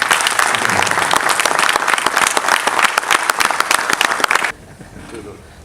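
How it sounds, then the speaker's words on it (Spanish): An audience claps loudly and densely at a book launch about a great earthquake, a packed burst of applause that stops abruptly after about four and a half seconds and leaves a quiet room. "Un fortísimo aplauso para el momento."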